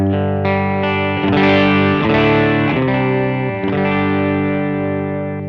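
An electric guitar played through a Boss ME-80 multi-effects unit rings out loud, distorted, sustained chords with a chorus-like shimmer and reverb, changing every second or so with no talk over it.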